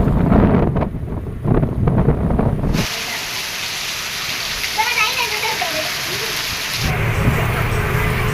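Wind and rain from Cyclone Fengal, a steady roaring broadband wash with gusty buffeting on the microphone, loud and close, interrupted by a sharp change partway through; voices are heard talking over it at the start and end.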